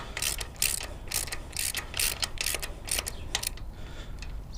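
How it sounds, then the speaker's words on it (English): A socket wrench ratchets bolts on a Harley-Davidson Screamin' Eagle Stage 1 performance rail air cleaner, giving rapid, repeated clicking bursts close by with no talking. "I'm going to put the socket on them. I'm not going to tighten them."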